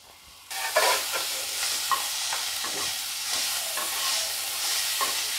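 Onion, tomato and spices frying in a pan, with a steady, close sizzle and occasional stirring scrapes after a brief quiet start.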